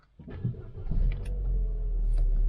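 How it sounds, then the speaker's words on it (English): A car engine starting up after a fault code was cleared, a brief cranking burst followed by a steady low idle rumble close by, with no talking. "so let's start the car up."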